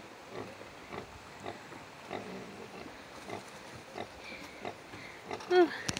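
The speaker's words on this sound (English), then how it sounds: "all the piglets are suckling" Piglets suckling on a sow grunt softly and irregularly, faint and close amid outdoor background noise, with people talking over them.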